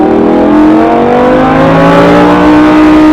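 A Lamborghini accelerates on the Mas du Clos circuit, its engine loud and close, the pitch climbing steadily through a single sustained rev.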